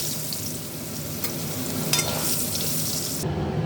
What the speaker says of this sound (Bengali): এবার আলুগুলো ভেজে নেব